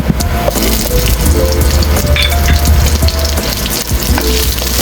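Onion fries loudly in a pan until golden brown, a dense, continuous sizzle close up with occasional stirring clatter and no talking.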